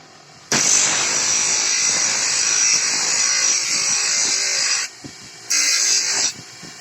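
A power grinder whines loudly for several seconds as it grinds metal flat for a cast iron burner, cuts out briefly, then runs again in a shorter burst before stopping.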